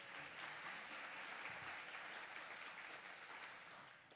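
Faint, distant audience clapping at an arts-sector mayoral forum, a soft even patter of many hands lasting about four seconds with little talk over it.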